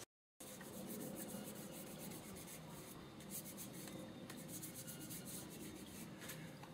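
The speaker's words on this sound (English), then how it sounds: "we are going to scuff down the paint, or the paint job, just to allow the paint stripper to get purchased" Fine 1200 grit sandpaper scuffing the painted frame of a Yamaha XJ600 Diversion motorcycle, a steady close rasping rub that continues without pause after a brief silence at the start.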